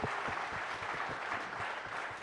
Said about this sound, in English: Let's have a loud round of applause for Ustad Zakir Hussain.